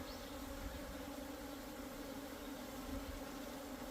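A dense swarm of Asian honeybees drones continuously in a hive, a steady low buzzing hum that stays even throughout, with no talking.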